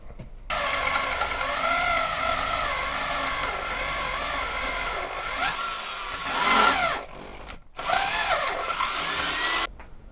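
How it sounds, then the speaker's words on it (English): A power drill whines steadily at close range, enlarging holes in an iron sword blade blank, its pitch rising and falling as it bites, with brief pauses between bursts. "I reckon the first thing to do would be to drill these holes slightly bigger."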